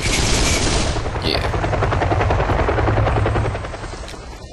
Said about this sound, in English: Gotta shoot that helicopter down.